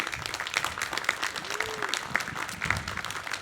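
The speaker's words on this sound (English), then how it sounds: "let's please give them a round of applause" An outdoor crowd at a college commencement ceremony claps continuously, a moderate wash of applause with a few sharper claps standing out and faint voices underneath.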